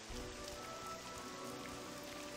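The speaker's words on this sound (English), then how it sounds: "See, it's always raining more in Valmora." Rain falls steadily in the game Morrowind, a dense, even patter of drops on surfaces at moderate volume, with no voices.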